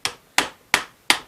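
Four light, evenly spaced hammer taps on a motor part during a 1968 rebuild, sharp metallic knocks close to the microphone with quick decays and no talking.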